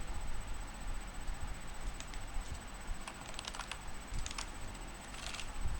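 Fingers tap out a short command on a computer keyboard during a networking lab, a quiet run of irregular key clicks that cluster into brief bursts over a steady low hum.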